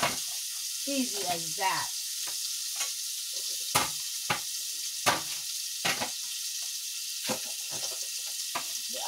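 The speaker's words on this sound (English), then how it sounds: "Okay, I just slide the crab." Crab slid into a pan of melting butter for cheesy garlic crab, hissing in a steady close sizzle with scattered clicks and utensil taps, as a person talks briefly at the start.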